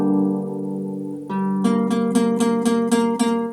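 Single sustained notes are joined by a flat seventh, then a bright rhythmic run of picked chord tones resolving back toward the root chord, played cleanly and fairly softly with no voices.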